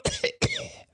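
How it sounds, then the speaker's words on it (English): A short burst of dry coughing: two quick hacks, then a third rougher cough that trails off, close and fairly loud, with no other talk. "How long have you had that cough?"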